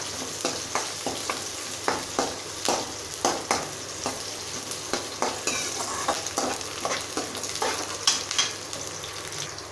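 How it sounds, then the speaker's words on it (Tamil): Onions and curry leaves sauté in ghee for vegetable fried rice, a steady close sizzle broken by regular scraping strokes of a spoon against the pan, no voices. "வெங்காயம் நல்லா வணங்கட்டும் இந்த நெய்யில்."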